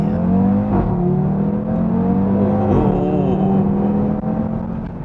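An Audi TT RS coupe with 400 horsepower and a sport exhaust accelerates hard from a standstill toward 100 km/h, a loud close engine roar climbing in pitch with two clear gear-change dips and a steady exhaust growl.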